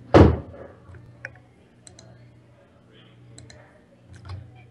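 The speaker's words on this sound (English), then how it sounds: "All I know is I'm clicking the screen." Clicks on a screen during a game match: one sharp, loud tap at the start, followed by a scattering of small, faint ticks spread unevenly over a few seconds, with low voices in the background.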